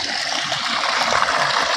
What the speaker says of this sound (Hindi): ये 2 इंच का लगभग पानी फेंक रहा है